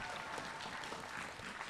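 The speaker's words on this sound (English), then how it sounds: "Round of applause again, please" A school audience of children and adults claps at an event, a dense, even burst of applause holding steady throughout.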